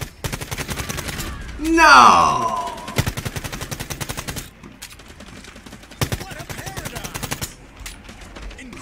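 Rapid pistol gunfire crackles in the time-loop shooter game Quantum League, with dense bursts of shots from about 3 to 4.5 seconds and again from 6 to 7.5 seconds, alongside a whooshing effect and excited shouting players.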